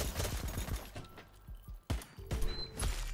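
Rapid gunfire from a firefight in the Citizen Conflict shooter, close sharp shots in quick clusters broken by short pauses and some mechanical clicks.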